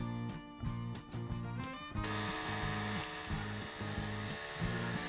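A repaired Wahl Lister Stablemate cattle clipper switched on and running, a steady close motor drone with a rhythmic low pulsing throughout, with a louder, brighter buzz setting in from about two seconds on.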